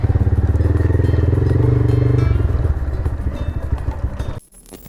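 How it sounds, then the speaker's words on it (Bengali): A motorcycle running close by at a rough, rapid idle as it is parked, the throbbing engine settling down before cutting off abruptly near the end, leaving only faint background. "আগে শব্দ শুনতে পাচ্ছেন বাইকটা পার্কিং করে"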